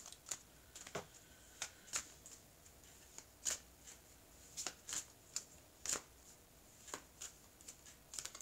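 Oracle cards being shuffled by hand, a run of crisp, irregular clicks and riffles, close and fairly quiet with no talking.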